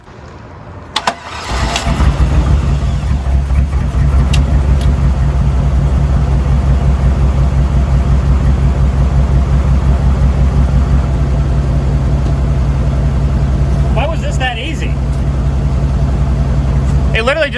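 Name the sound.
old pickup truck engine running with factory exhaust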